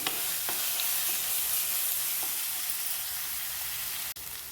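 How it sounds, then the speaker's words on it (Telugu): Ginger garlic paste, ground with cardamom and other spices, fries in a pan for a spicy prawn curry, giving a steady, close sizzle and crackle that runs throughout, broken only by a brief dip near the end. "పేస్ట్ గ్రైండ్ చేసి పెట్టుకున్న పేస్ట్ ఇది దీన్ని కూడా చక్కగా వేపించేసుకుందాము"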